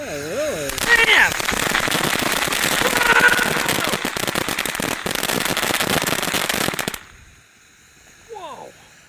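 Monkey Mania consumer fireworks from a Miraculous Magic Box fire in a loud, dense burst of crackling reports and bangs lasting about seven seconds, then stop abruptly, leaving quiet with a brief distant voice.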